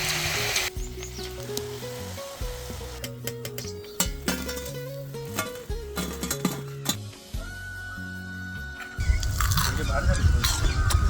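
Crab and onion bhaji batter drops into hot oil in a kadhai and sizzles loudly near the end. Before that, instrumental music with a steady beat plays.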